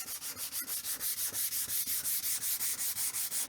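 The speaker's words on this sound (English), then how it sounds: "a little bit of final touch-up sanding before applying the finish" Rhythmic back-and-forth sanding of a wooden guitar body riser before finishing, steady strokes about five per second, close and fairly loud with no talking.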